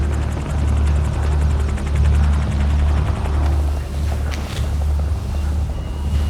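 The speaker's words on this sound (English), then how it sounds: "That sounds like a helicopter to me." A trauma helicopter arrives, its rotor beating in a rapid steady pulse over a loud low engine drone that swells and eases slightly, with no talk over it.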